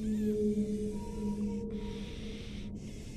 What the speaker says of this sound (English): I'm a play whale sounds while I blow this up.